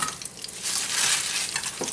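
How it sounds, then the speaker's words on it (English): Cabbage dropped into hot oil in a skillet gives a bright, loud sizzle that swells and holds steady, with a few stirring scrapes near the end. "I simply just add in my cabbage."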